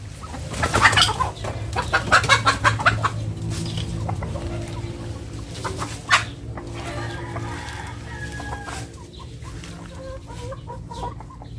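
Chickens cluck repeatedly nearby, busy and irregular, with scattered peck-like ticks and a low steady hum underneath.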